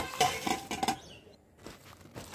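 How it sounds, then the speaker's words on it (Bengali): Chicken pieces tossed with spices in a bowl, giving a few clattering clinks and scrapes of utensil against dish up front, then a quieter stretch of soft handling noise. "সব মশলা দিয়ে এখন চিকেন ফ্রাই মেখে নিব।"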